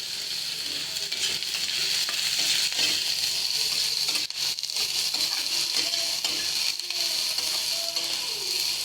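Onions fry with mustard seeds, cumin and curry leaves in oil for a carrot curry, giving a steady, close sizzle with scraping and stirring noises over it throughout.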